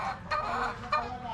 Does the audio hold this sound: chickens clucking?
yes